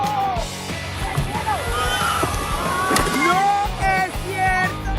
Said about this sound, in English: this 5-ton orca made an unbelievable breach